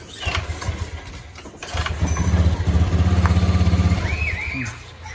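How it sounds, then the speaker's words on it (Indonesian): A Honda Beat ESP scooter engine with a starting and idling fault, close by, rumbling unevenly, sputtering as it is revved and then dying out, with a brief squeal near the end. "malah mati motornya, malah ngok kawan."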